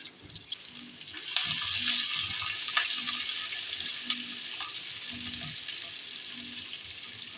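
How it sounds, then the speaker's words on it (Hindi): Two large onions dropped into about half a cup of hot oil in a pan for ridge gourd sabzi, bursting into a loud hissing sizzle that settles into a steady crackle with a few stirring scrapes. "जब तेल गर्म हो जाएगा तो उसमें ये मेरे पास 2 बड़ी प्याज हैं, ये मैंने डाल दिए"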